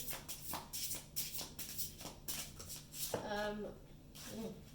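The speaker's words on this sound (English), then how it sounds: "these cards are huge, by the way, so this is awkward shuffling going on" Large, oversized tarot cards are shuffled awkwardly in the hands, giving repeated soft riffling and papery flicks at close range, with a person talking briefly partway through.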